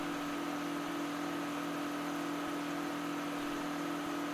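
Steady idling drone of a big John Deere 9560 tractor engine in Farming Simulator 2013, a constant low hum and mechanical whine holding level throughout with no talk.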